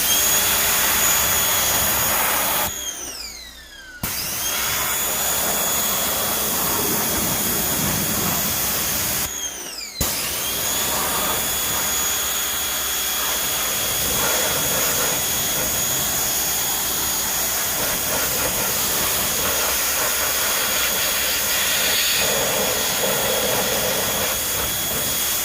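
A hose nozzle sprays water to rinse a car's wheel wells, making a loud, continuous rushing hiss close by that cuts out briefly twice before running steadily on.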